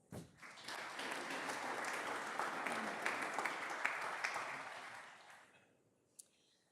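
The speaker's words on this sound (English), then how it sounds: "So another big round of applause," Audience applause at a startup showcase swells up quickly, holds as steady, moderately distant clapping for several seconds, then tapers off, ending with a single stray clap.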